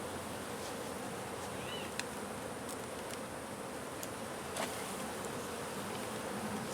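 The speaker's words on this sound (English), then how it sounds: "So there's bees in there." Bees buzz steadily around a hive under a wood pile, a dense continuous drone with occasional louder individual bees passing close.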